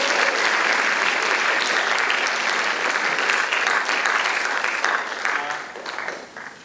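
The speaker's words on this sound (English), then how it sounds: "Big round of applause for Tabani." An audience at a 2021 Australian poetry slam held at a school gives sustained, dense clapping that stays loud for several seconds before thinning and fading toward the end.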